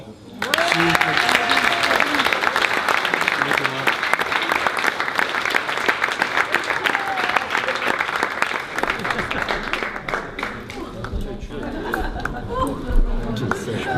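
Audience at an end-of-year Max25 dinner applauding the evening's organizer, loud sustained clapping from a full room with cheers and chatter mixed in, gradually thinning toward the end.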